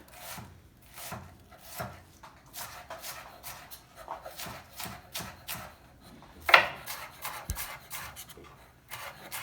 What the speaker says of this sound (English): we're just going to do a nice fine chop